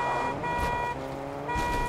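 A taxi's car horn honks in a Russian-taxi video game, a steady sustained tone with harmonic layers that dips briefly near the middle and then swells again, loud and close with no talk over it.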